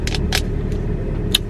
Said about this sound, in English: I was letting my car warm up